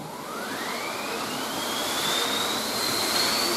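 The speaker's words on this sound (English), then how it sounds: "that's the wind machine" A steady rushing whoosh of an orchestral wind machine at a concert, its pitch slowly rising like gusting wind, continuous and fairly loud with no voices.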